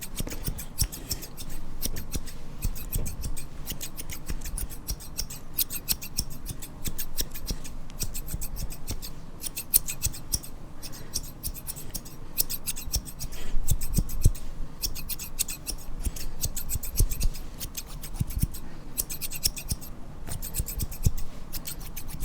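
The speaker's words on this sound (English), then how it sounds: "It's a chill pair of scissors" A smooth-cutting pair of barbershop scissors snips steadily and rapidly, dense close metallic clicks repeating over a continuous soft rubbing texture without pause.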